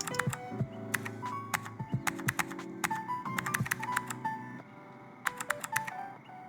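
Rapid clicky keystrokes from typing in the CozyTyper game, irregular bursts of close, crisp taps with brief pauses between runs, layered over soft tonal background music.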